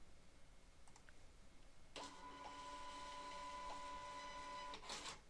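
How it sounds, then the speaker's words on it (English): A receipt printer prints out cash totals for about three seconds, a steady close whirring buzz with faint clicks, starting and stopping abruptly over a quiet room. "Click on the Print button at the bottom of the screen of Cash Totals to print out the cash totals to the receipt printer."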